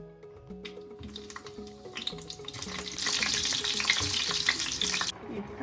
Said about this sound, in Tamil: நாங்கள் முதல் கறிமிளகாயை பொறிச்செடுப்போம்